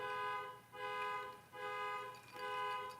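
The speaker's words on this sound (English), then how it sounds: "Motherfuckers out there got their alarm going off and shit" An alarm goes off outside, a steady electronic tone sounding in repeated pulses about every second, distant and muffled through a room.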